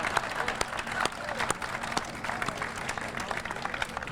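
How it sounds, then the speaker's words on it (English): An outdoor celebration crowd applauds a councilmember with dense, steady clapping and a few sharp individual claps, a voice carrying faintly over it. "Could I get a round of applause for Mike?"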